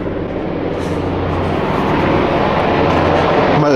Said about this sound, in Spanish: Maldito avión de mierda, helicóptero.